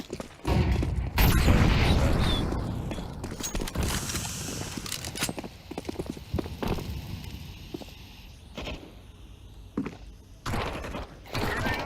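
A flashbang grenade goes off in a video game as one sharp, loud bang. Scattered clatter, footsteps and distant shots follow, with more bursts later.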